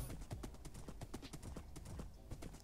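Horse hooves clip-clop in a steady rapid rhythm across a Minecraft game world, fairly loud and continuous with faint game ambience, no voices over them.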